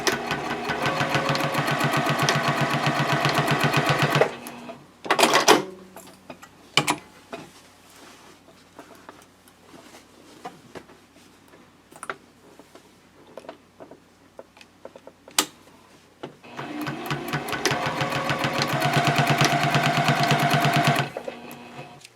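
A sewing machine runs in two long, steady bursts of rapid stitching, basting elastic onto a quilted A5 journal cover, with quieter handling clicks and pauses in between.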